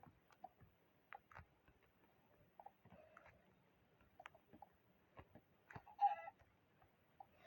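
Faint, scattered Minecraft chicken clucks pop up sporadically against near silence, with a slightly louder cluck cluster toward the end.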